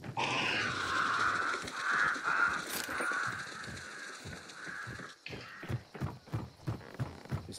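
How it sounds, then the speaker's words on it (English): Crows caw in a hunting video game as they are flushed, a flurry of harsh calls over a steady hum, then giving way to rhythmic footstep-like thuds. "I'm going to set these crows off because I want that those points."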